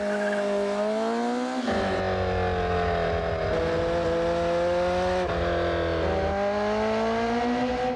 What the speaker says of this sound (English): When the engineers at Nissan designed the new 240SX, they wanted it to have certain acceleration characteristics.